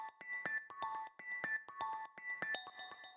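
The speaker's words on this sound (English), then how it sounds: "this is just like a little bell sample" Bright bell-like sampled lead layer in a melodic house track, playing a repeating rhythmic melodic pattern of short ringing chime notes with clear attacks and decays, steady and upfront with no voices.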